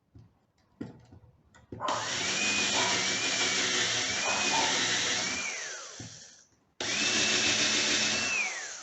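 A power drill bores a screw hole into a wooden corner shelf, whining loud and steady for several seconds, pausing briefly, then spinning up again with rising and falling pitch.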